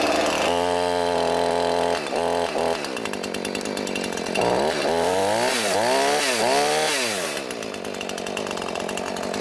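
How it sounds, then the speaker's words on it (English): A Jonsered chainsaw engine runs loudly close by, its buzzing whine revving up and down several times before settling into a steady idle. "Most other chainsaws started right up with a brand new one."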